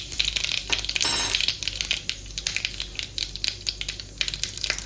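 Mustard seeds and a pinch of cumin hitting hot oil, a crackling, spitting sizzle with a loud burst early on and scattered popping ticks continuing close up, no talking.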